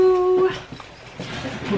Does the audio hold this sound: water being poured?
no